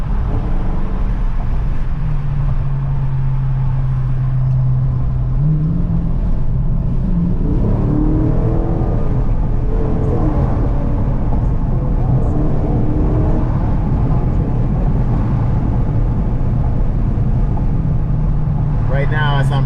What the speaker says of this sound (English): as I'm braking, I'm barely stepping on the brakes, and it just kind of brings the car to a halt